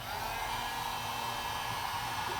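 A heat gun blows hot air onto a Ferrari GTB headlight, giving a steady, close whirring hiss that holds unchanged throughout the short stretch.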